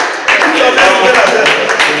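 A crowd at a photography academy event claps steadily over a dense wash of voices and room noise, the clapping filling most of the moment after a brief quieter start.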